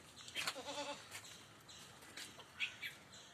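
A goat gives a single wavering bleat, followed by faint bird chirps in the background; the whole scene is quiet and somewhat distant.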